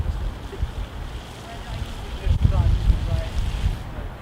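Wind gusts against the microphone at an outdoor vigil and march against police brutality, a low rumbling buffet that swells and surges unevenly throughout.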